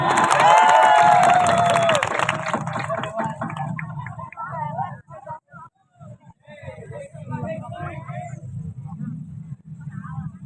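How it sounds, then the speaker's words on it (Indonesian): An audience at a public community gathering in Pagelaran claps and cheers loudly for about two seconds, with a voice ringing out over it. Then someone talks over scattered applause and background noise. "Tepuk tangan untuk Pak Dewan."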